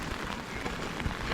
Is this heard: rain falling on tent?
yes